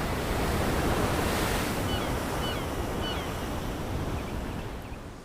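Stormy ocean surf crashing against rocks, a loud, continuous broadband roar of breaking waves with wind, steady throughout and close to the microphone.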